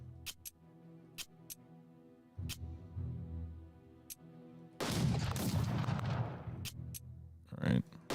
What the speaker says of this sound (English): let's do a bombardment here on this German armor